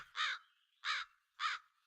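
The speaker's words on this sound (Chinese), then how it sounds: "原来是乌鸦的鼓噪声" Three loud, harsh crow caws, evenly spaced and close by, with silence between each call.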